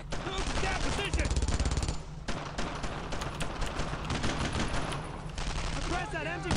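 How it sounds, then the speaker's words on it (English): A machine gun nest fires in the World War II video game Brothers in Arms, with dense, rapid bursts of automatic gunfire and scattered rifle shots going nearly nonstop, loud and close, while soldiers' voices shout faintly in the mix. "Oh, there's the machine gun nest."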